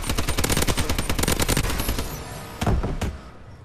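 Rapid automatic warbird gunfire rattles in the multiplayer video game Call of Duty Advanced Warfare, a loud sustained burst that trails off, followed by two sharper isolated shots.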